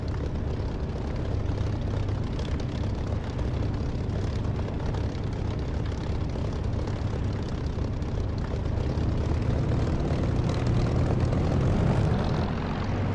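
Aircraft engine in the DCS flight simulator game, a steady, loud, continuous drone that holds for the whole stretch, rising slightly near the end, with no talk over it.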